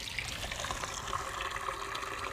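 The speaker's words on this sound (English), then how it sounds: "I simply stick a pitcher down here, and then my rainwater is purified to be delicious and great for drinking." Rainwater filtered through a Berkey purifier runs steadily into a pitcher, a continuous close trickling and splashing stream without pause or voices.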